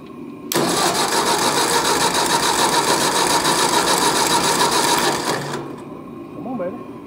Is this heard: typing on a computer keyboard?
no